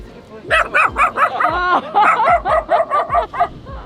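Several puppies bark in quick high yips and whimpers, a rapid run of about a dozen sharp close barks with a brief whine midway, loud and near, with people talking around them.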